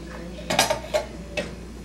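Dishes, pots and cutlery clink and clatter in a home kitchen while dinner is stirred, with three or four sharp metallic knocks spread over a couple of seconds against a quiet room.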